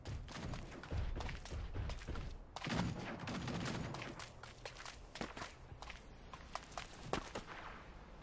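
Gunfire and running footsteps in the video game Super Mecha Champions, with a steady patter of steps and thuds broken by sharp, close shots and quick bursts, loud throughout.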